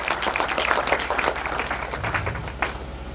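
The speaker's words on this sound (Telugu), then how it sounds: "చప్పట్లు కొడుతూ దేవుని నామాన్ని మహిమపరుద్దాం." Church congregation clapping their hands together, a moderate rhythmic patter of many hands that continues for the whole stretch.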